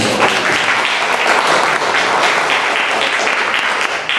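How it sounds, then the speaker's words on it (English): Steady, loud audience applause fills an indoor book launch event, a dense wash of many hands clapping for several seconds without letting up. "Big round of applause, please"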